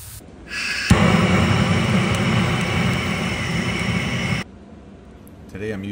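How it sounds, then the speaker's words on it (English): A rocket fire torch, used without its end attachment, lighting a grill: a sudden loud, roaring jet of flame that holds steady for several seconds and then cuts off. A voice speaks over the end. "Today I'm using my rocket fire torch to light the grill."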